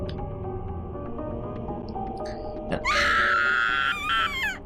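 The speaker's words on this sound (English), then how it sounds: "Why the fuck are you screaming?" A character screams in the horror video game Corpse Party: Book of Shadows, a loud, high, wavering shriek that rises in pitch and breaks off near the end, rising over low droning game music and ambience.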